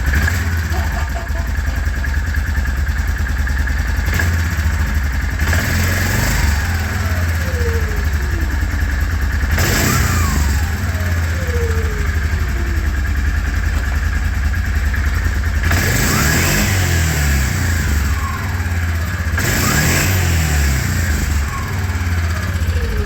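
A Yamaha Grizzly ATV engine with an upgraded clutch shim and spring, revving loudly and climbing through repeated upshifts, each rise in pitch falling away as the next shift comes, heard close and steady throughout.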